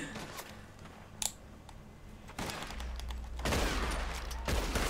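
Gunfire in the video game Red Dead Redemption 2, several sharp shots scattered over a few seconds with rising background noise, no talking.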